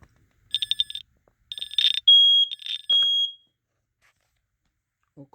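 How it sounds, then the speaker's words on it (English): An interconnected household smoke alarm sounding faintly in short high-pitched chirps, then a few longer sustained beeps, in an otherwise quiet room. "Yeah, this one going off, but it's like very minimal."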